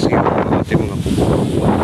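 Loud, steady roar of wind and strong ocean waves buffeting close to the microphone on a windy beach, a continuous rushing wash with no voices.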